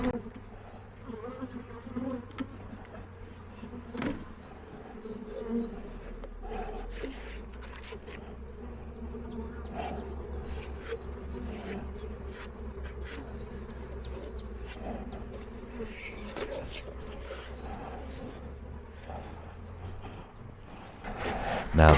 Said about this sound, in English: I'm also going to brush the remaining bees out of my old hive.